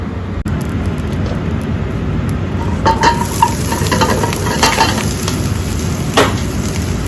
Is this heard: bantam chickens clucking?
no